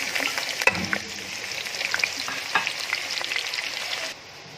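Onions fry in hot oil with cumin for a tadka for Punjabi kadhi, giving a steady close sizzle with occasional crackles and pops, then dropping quieter near the end.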